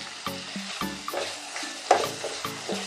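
Pav bhaji masala with garam masala sizzles and fries in a pan, a steady close crackle with occasional stirring scrapes and clatters, while faint tonal background sounds drift underneath.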